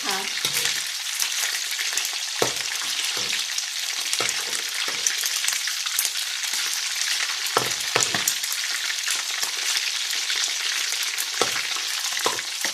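Marinated sun-dried pork fries in hot oil, a loud continuous crackling sizzle with scattered pops and occasional stirring knocks, close and steady throughout.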